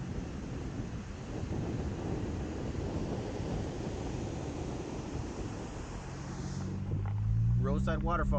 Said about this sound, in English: Roadside waterfall.